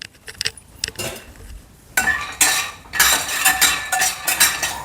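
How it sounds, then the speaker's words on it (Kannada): Peanuts roasting in a pan for bakery-style masala nippattu, with repeated metallic scraping and clinking of a utensil against the pan, sparse at first and then louder, busier stirring with no talking. "ನಾವು ಮೊದಲನೇದಾಗಿ ಒಂದು ಬಾಣಲೆಯಲ್ಲಿ ಶೇಂಗಾ ಬೀಜನ ಹಾಕ್ಕೊಂಡು ಒಂದು ಕ್ರಿಸ್ಪಿಯಾಗಿ ಹುರ್ಕೊಳ್ಳೋಣ"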